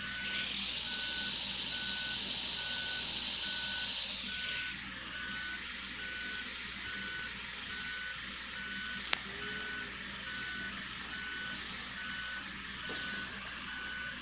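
A minibus in Minibus Simulator Vietnam reverses with a steady, evenly spaced electronic beep repeating throughout, over a continuous engine drone that drops in pitch partway through, with one sharp click midway and no voices.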